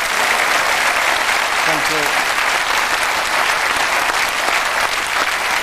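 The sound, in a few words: football crowd applauding a defeated side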